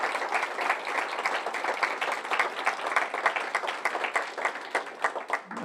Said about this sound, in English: how about another round of applause for the Taube family?